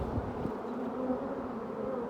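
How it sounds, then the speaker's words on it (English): A swarm of honey bees buzzes steadily inside a chimney during a bee removal, making a dense, continuous drone that stays close and even throughout, with no voices. "he's just knocking the bees back into the colony"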